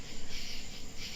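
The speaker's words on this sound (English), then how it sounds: "these fucking crickets over here" Crickets chirping in a steady, pulsing trill, fairly faint and continuous, with no voices over it.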